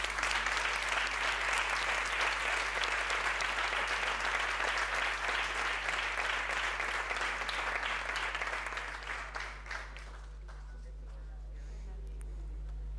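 A crowd at an innovation summit in Andalucía applauds the winners with sustained, dense clapping that fades out after about ten seconds, leaving low room hum.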